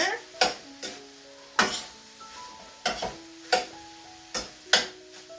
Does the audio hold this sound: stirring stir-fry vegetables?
yes